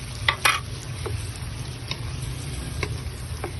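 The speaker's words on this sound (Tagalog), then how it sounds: "ilagay na po natin yung shrimp natin na pinakuluan kanina sa Sprite" Shrimp that had been boiled in Sprite, stir-fried in a pan with garlic and butter, giving a steady close sizzle with scattered clinks and scrapes of the spatula against the pan.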